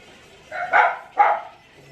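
Two short dog barks at mid distance in a quiet room, a brief pair of yelps roughly half a second apart, with no talk over them.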